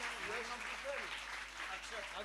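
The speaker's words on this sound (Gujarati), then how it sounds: "એને તાળીઓથી વધાવો તો આવે." An audience claps steadily at a Shravan Monday devotional santvani gathering at Shri Pujeshwar Mahadev temple, the dense applause sustained throughout with a voice faintly audible over it.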